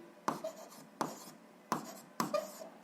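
A pen or pencil scratches on paper in four short, quiet bursts spaced under a second apart, each a quick scribble of strokes, close and isolated with no talking.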